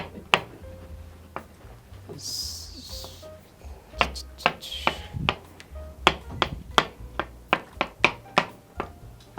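A knife chops scallions and other vegetables on a cutting board during a home cooking lesson, the sharp chops speeding into a rapid, even rhythm up close with almost no talk.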